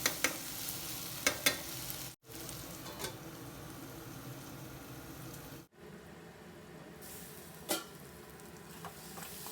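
Eggplant simmering in a pan for a village-style eggplant and drumstick curry, a soft steady sizzle with a few scraping stirs near the start and end and two brief dropouts, no talking.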